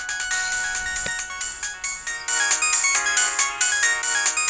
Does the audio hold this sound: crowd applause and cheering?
no